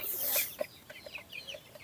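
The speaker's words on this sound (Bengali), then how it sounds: "এগুলো হচ্ছে চিলচড়াই বা তিতির মুরগি" Guinea fowl kept on a poultry farm give a quick series of faint, short chirping calls at a distance, spaced irregularly over a brief, quiet moment with no talking.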